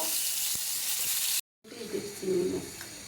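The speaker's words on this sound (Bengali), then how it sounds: "বাকি পটলগুলো ভেজে নিচ্ছি" Pointed gourd (potol) pieces frying in hot oil make a bright hissing sizzle that cuts off briefly, then comes back with a softer crackle and a bubbling hum.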